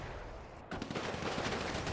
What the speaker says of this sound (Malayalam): ബാബ കല്യാണി സ്വന്തം വണ്ടിക്കിട്ട് വെടിവെച്ചു.